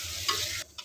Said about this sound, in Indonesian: jadi serundengnya digoreng pakai minyak agak banyak ya.